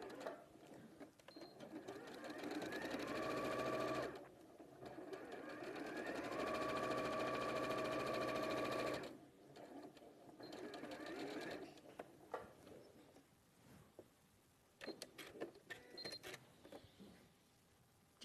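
Sewing machine stitching fabric squares together in two sustained runs, each several seconds long, with quieter clicks and fabric handling between and after the bursts.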